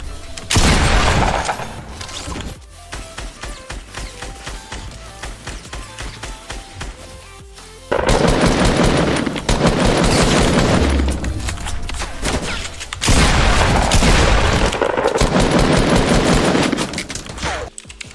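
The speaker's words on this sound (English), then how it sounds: "I'm getting shot at." Gunfire in Fortnite during a tournament match: loud, dense bursts of rapid shots arrive in heavy waves, with quieter scattered firing in between, close and aggressive throughout.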